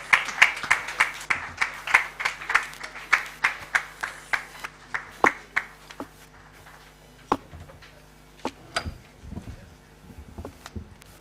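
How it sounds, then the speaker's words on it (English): Audience applause at an International Day of Persons with Disabilities event, a steady run of loud clapping for about six seconds, then thinning to scattered claps. "Please, let's clap until she gets to this place."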